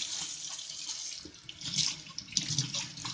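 Tap water runs steadily over a plastic part from a Fridja F1900 fridge, rinsing out dish soap with a continuous splashing hiss that swells and surges near the end, with no talking.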